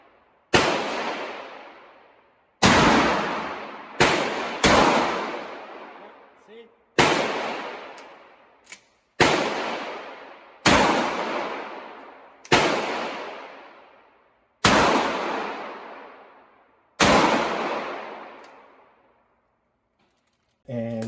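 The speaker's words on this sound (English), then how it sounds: "The first 5-10 rounds I fired kind of gave me problems." A Canuck 12 gauge shotgun fires about ten sharp, loud reports spaced two to three seconds apart, each blast ringing out and decaying before the next.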